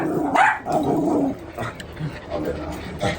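Several dogs bark and growl close by in short, overlapping outbursts, with a person talking over them.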